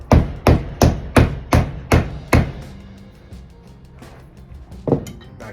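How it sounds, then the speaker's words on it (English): A hammer strikes freshly resoled boots in a quick run of seven sharp, ringing blows, then pauses before two more isolated knocks, loud and close with no talk. "Now I'm just going to give them a little bit more of a hammer."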